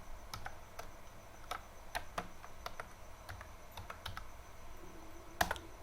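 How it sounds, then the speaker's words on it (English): A command being typed on a computer keyboard to fix a Windows 10 error, with a quiet, irregular series of close key clicks and a slightly louder keystroke near the end. "So I will typing here first command"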